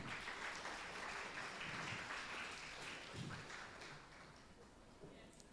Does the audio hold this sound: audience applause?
yes